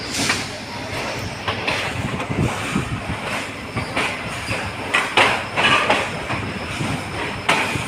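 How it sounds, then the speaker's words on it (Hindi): Night-time railway station platform in Lahore, with a steady rumble of train cars and rhythmic clacking of wheels, faint squeals and a loud, continuous ambient roar. "ये है जी लाहौर का रेलवे स्टेशन। रात का 1:15 बज चुके हैं।"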